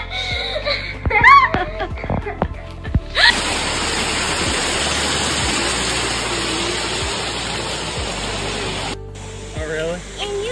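Steady broadband rush of a waterfall at a beach setting, loud and continuous for several seconds, with brief voices and laughter before and after it.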